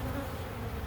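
Honeybees swarm at an open hive during an inspection, a dense, close, continuous buzzing hum with no speech.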